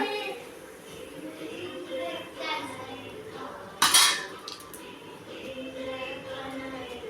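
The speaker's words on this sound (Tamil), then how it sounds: "இதை இப்போ ஒரு பிளேட்டுக்கு மாற்றிக்கலாம்." Freshly fried puffed wheat masala pooris are moved onto a plate with soft clinks and scrapes of utensils, one sharp clatter midway, while a voice talks over it.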